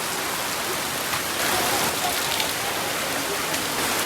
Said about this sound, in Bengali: কি বৃষ্টি হইতেছে রে